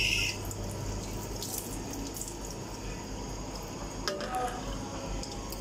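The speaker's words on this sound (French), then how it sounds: "je vais mouiller un petit peu mon éponge" Running tap water wetting a sponge, a steady hiss with a brief clatter near the start and another around four seconds, no talking over it.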